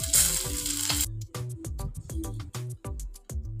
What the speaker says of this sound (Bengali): মাছগুলোকে ভালোভাবে ফ্রাই করে নিতে হবে